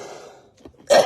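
A person nearby gives a single sharp, explosive cough that bursts out loudly after a quiet, breathy lead-in, with no talk around it.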